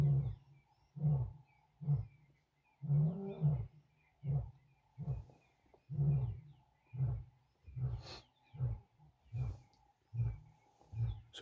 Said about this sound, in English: You can hear the audio of the male lion.